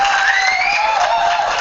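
Canned applause effect from a free phone ringtone app, a short compressed burst of crowd clapping and cheering with whoops, loud and uniform, cut off abruptly.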